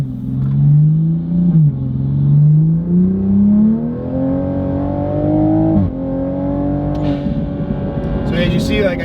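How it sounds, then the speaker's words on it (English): A Toyota A90 Supra with an HKS SQV blow-off valve revs hard, engine pitch climbing through a sustained pull, then a sharp hiss from the valve venting as the throttle lifts near the end, loud and close. "it actually released all the pressure when I finished and lifted the throttle"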